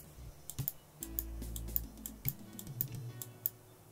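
A computer keyboard clicks as keys are pressed during photo editing, with quiet, scattered taps in short irregular runs, close but soft against a low background hum.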